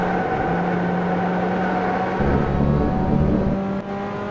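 A Pontiac Solstice at full throttle on the Laguna Seca circuit, its engine droning loudly and steadily with a rising tone and a brief shift in pitch as it pulls hard out of a corner.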